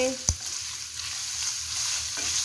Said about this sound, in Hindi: इसे अच्छी तरह मिक्स करेंगे,